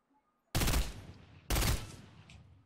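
Two loud bursts of Fortnite gunfire, each a sudden, heavy blast that fades into a rough tail. The shots are close, about a second apart, and follow near silence.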